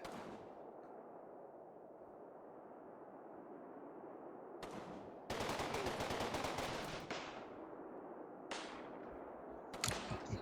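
Close-range automatic gunfire in the WWII tactical game Combat Mission Final Blitzkrieg, with loud rattling bursts of machine-gun fire around the middle and toward the end, over quieter sporadic battlefield noise.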